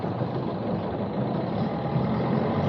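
A sailing boat's engine thrusts while docking in a marina, producing a steady low rumble that stays even and close throughout.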